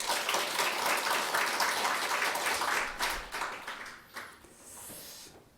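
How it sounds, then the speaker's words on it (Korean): A church congregation at a Sunday worship service applauds together, a broad wash of clapping that holds for several seconds and then fades away into near quiet. "하나님께 감사와 영광의 박수 올려드리겠습니다."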